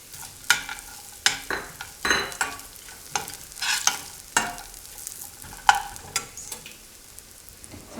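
Ginger and cashews fry in a pan as a spatula scrapes and stirs in a quick irregular rhythm of sharp strokes over a light sizzle, close by with no talk.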